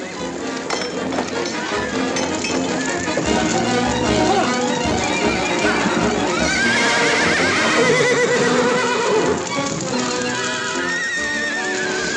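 A horse whinnies in a high, wavering cry amid steady clip-clopping hooves and clinking tack in an old Western ranch scene, a dense, busy mix with voices nearby.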